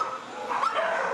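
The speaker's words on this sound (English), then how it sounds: "These are among dozens of dogs at Beaumont Animal Services." Dogs barking at Beaumont Animal Services, an animal shelter, in a brief, fairly loud burst of overlapping barks and yips.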